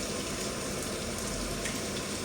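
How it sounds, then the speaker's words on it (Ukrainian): Cutlets sizzling in oil in a frying pan, a dense, even crackling hiss that stays constant throughout, close but fairly quiet, with no speech. "налила олійки і викладаємо ось сковорідочку наші котлетки"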